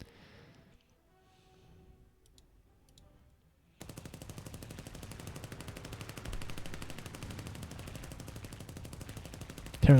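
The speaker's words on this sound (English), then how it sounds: "Hearing a lot of gunshots." Rapid gunfire in the video game War Thunder: after a quiet start, a dense, steady stream of fast shots runs continuously for about six seconds, moderately loud, with no talk.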